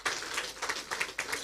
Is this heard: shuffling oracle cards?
no